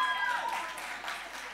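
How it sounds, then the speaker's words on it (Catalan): Applause for women in science and technology at the launch event of Catosfera 2023, a dense, steady patter of clapping from a moderate distance with faint voices and tones mixed in. "Un fort aplaudiment per les dones"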